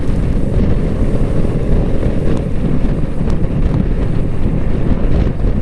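Wind blasts into the microphone during a breezy, sunny ride, a loud, constant low roar and buffeting that covers everything else for the whole stretch.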